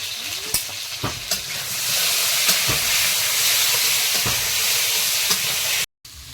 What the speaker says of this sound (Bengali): আলুটাও সুন্দর করে লাল লাল করে ভাজাই হয়েছে